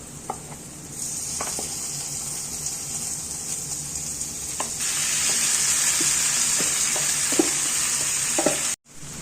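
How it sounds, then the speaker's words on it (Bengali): Fried chicken pieces tipped into a pan of deep-browned onions for malai chicken, setting off a steady, close sizzle that swells louder midway, with scattered scrapes and stirring clinks over the frying hiss. "পেঁয়াজ লাল করে ভাজা হয়ে গেছে, এবার ওই ভাজা মাংসটা এর মধ্যে দিয়ে দিচ্ছি।"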